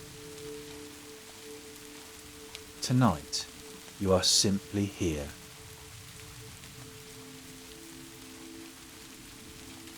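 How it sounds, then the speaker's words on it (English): Steady rain falls on a cabin in the mountains as a constant soft hiss, with a low hum beneath it and a calm voice speaking briefly in the middle. "Can you hear the rain?"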